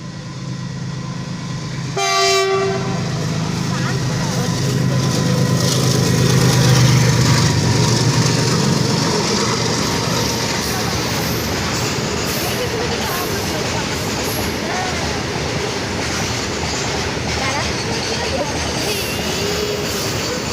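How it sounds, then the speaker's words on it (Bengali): An oil tanker train passes at full speed with a short horn blast near the start, followed by a steady, loud rumble and clatter of wagons that carries through to the end. "এটা তেলের ট্রেন"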